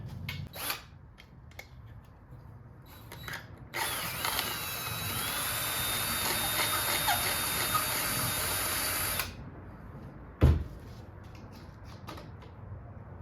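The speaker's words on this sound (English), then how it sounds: "Let's give her the old drill real quick" A power drill enlarges a hole, whining steadily for several seconds, close up, bracketed by short clicks and clatter of handling, with a sharp knock near the end.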